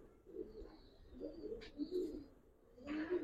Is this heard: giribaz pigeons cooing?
yes